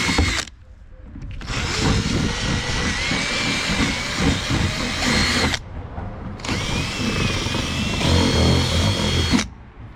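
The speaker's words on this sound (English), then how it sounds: "I'm going to enlarge the holes manually, just by rubbing the side, taking my time gently, increasing it bit by bit at a time." A power drill with its bit whines in bursts while enlarging holes in a plastic boat hull, the bit rubbed sideways against the edges; two long, loud grinding runs are separated by short pauses.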